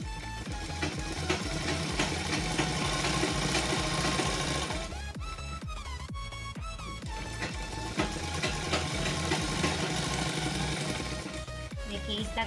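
A sewing machine runs close by, stitching a seam on a salwar in fast, steady mechanical chatter. It pauses briefly in the middle, then resumes at the same even rhythm.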